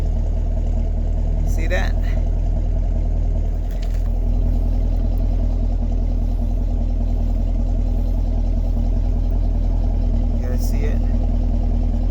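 A Chevrolet Camaro SS V8 runs with its exhaust valve held open, giving a loud, steady, deep idle rumble that fills the whole stretch while someone talks over it.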